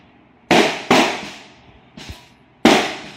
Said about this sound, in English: We are having some fireworks.